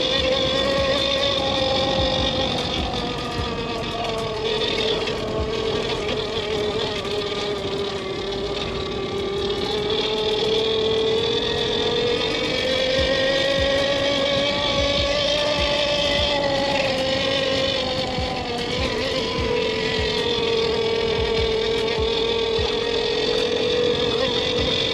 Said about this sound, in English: I'm going to try to cruise around 25-30 miles per hour on mode 3, and I'm just going to do a bunch of loops at our property